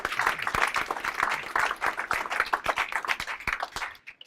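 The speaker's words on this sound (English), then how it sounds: "So I think a great warm round of applause for Evan there." An audience at a speaker showcase in Research Triangle Park applauds warmly, with close, distinct hand claps in a busy rhythm that thins out and fades near the end.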